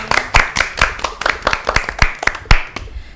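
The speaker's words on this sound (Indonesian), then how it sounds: "Tepuk tangan dulu dong." An audience at a talk on building websites for practicum classes claps hands: a dozen or so distinct, fairly close claps in an uneven rhythm, loud and sharp against a quiet room.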